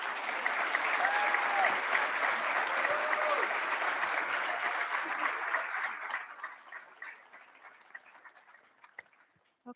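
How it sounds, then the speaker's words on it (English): A crowd claps at a school recognition ceremony, loud sustained applause that gradually thins and fades over the last few seconds into scattered claps. "Let's give one more round of applause."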